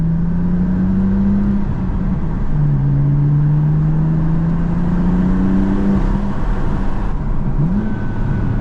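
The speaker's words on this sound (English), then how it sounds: "definitely got some sound there. Got some burbles now." A BMW M4 Competition fitted with an AWE SwitchPath exhaust idles and blips, with a steady deep engine drone, a few rising revs and soft burbling pops on the overrun. It stays close and continuous, with no talking.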